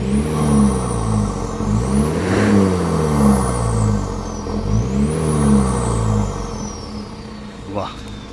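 A Force Gurkha off-road SUV engine revs up and down twice, its pitch rising and falling with each press of the throttle by hand, loud and close, then settling to a steady idle.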